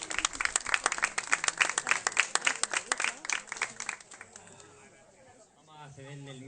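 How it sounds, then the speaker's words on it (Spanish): Audience in El Castillo del Pinar claps for author Víctor Morata, loud rhythmic hand claps for about four seconds that fade out, with talking coming in as the clapping dies away. "Un aplauso para ese gran autor."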